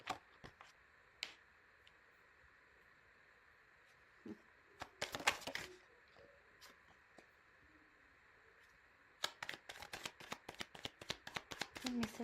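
Tarot cards shuffled by hand in quiet bursts, a few single snaps early, a thick riffle near the middle and a rapid run of flicks and slaps toward the end, all close up and fairly soft.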